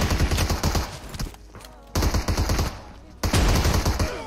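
Pump shotgun blasts in PUBG Mobile, three loud, close bursts of booming shots spaced about a second apart, separated by quieter gaps with faint background noise.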